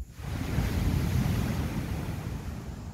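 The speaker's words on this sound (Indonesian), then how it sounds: "apakah terdengar deburan ombak, ya iyalah, ini kan di tepi pantai" Ocean surf rolls onto a beach at night near a seaside cabin in Kalianda, Lampung, a steady, close, full roar of breaking waves with wind buffeting the microphone and no voices.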